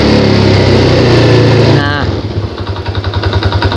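A Yamaha Jupiter Z motorcycle engine, first held high and loud, then dropping into a lumpy, pulsing idle. Close and strong throughout.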